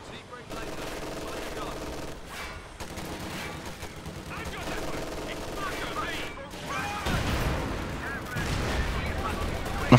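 Artillery and gunfire from a mortar half-track in a World War II strategy game, a steady barrage of blasts and shots running the whole time, with a heavy low rumble building near the end.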